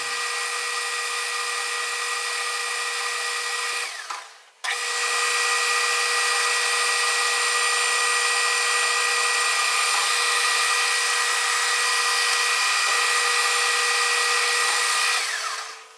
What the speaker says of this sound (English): So I'll go ahead and center drill that and we'll punch that out.